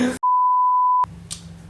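A single steady censor bleep lasting just under a second cuts into a casual conversation, with brief bits of voices before and after it.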